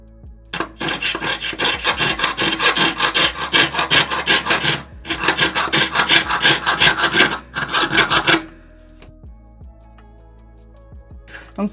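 A jeweler's saw cuts 925 silver for a ring in rapid back-and-forth strokes, a close, raspy rhythmic scraping in two long runs and a short burst, then quieter handling.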